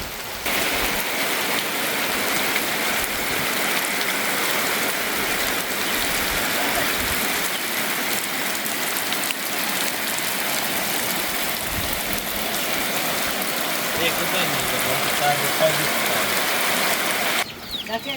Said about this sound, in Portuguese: Chegamos debaixo de chuva já